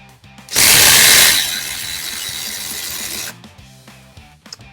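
A Craftsman cordless power tool set to speed 3 bursts into a loud close whir, then settles into a steadier mechanical hum before stopping, with a faint ratcheting clatter around it.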